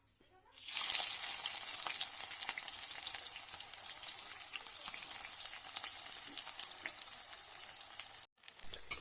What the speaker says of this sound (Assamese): এতিয়া মই ইয়াতে পিয়াজ দি দিম